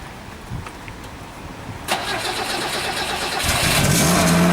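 A 1990 FSO Polonez cranks and catches on the first try, the starter churn giving way to a louder engine that rises into a steady idle with a whining tone, close by and with no talking.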